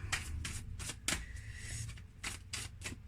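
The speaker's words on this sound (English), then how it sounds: "we're just going to shuffle the deck" Crisp riffling bursts of a card deck being shuffled, repeated several times in quick succession, close and fairly quiet with no talking.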